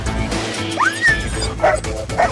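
A police dog at an intercept scene gives sharp yelping barks and a rising whine, loud and close, with a few short bursts spaced across the moment and no talk over them.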